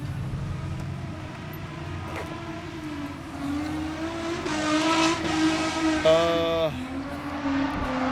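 An S13 Nissan with a swapped 3SGE Beams engine idles and then revs with a rising, wavering engine note close by, while people talk over it.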